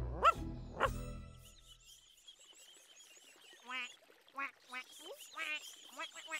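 Ducks, a mother duck with her ducklings, quack while being fed stale bread in an animated children's show, giving a run of short nasal calls. Two sharp dog barks come first, then a quiet pause.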